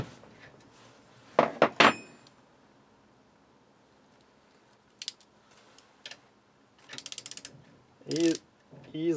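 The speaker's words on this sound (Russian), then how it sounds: "Ставлю усилие 15 ньютонов на метр." A KING TONY torque wrench gets adjusted to 15 newton metres, giving bursts of quick ratcheting clicks and mechanical ticks separated by quiet gaps, close and crisp.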